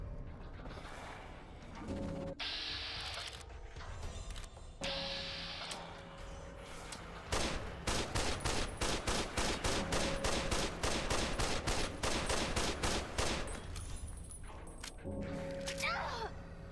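Gunfire in Fallout: New Vegas starts with a few scattered shots and clanks, then becomes a long, rapid, evenly spaced volley of loud automatic fire lasting several seconds.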